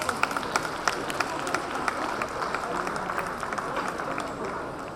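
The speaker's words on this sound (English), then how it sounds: "Can we have a round of applause, please?" Graduation ceremony crowd giving a round of applause, a broad, even wash of many hands clapping continuously, with a few sharper claps standing out near the start, fairly distant and steady throughout.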